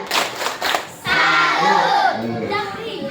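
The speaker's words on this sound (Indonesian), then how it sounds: "Coba kasih tepuk salut, tepuk salut, salut, salut, salut, salut" Primary schoolchildren in an Indonesian classroom clap a rhythmic salute chant together: a few sharp group claps, then a loud burst of children's voices chanting in unison.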